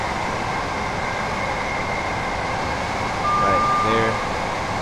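Class 387 Gatwick Express electric train running in Train Sim World 2, a steady rumbling drone heard from the cab, with a brief brighter tone near the end.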